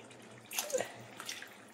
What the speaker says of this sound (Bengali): এবার আমি এর মধ্যে দিয়ে দেব প্রয়োজন মতো জল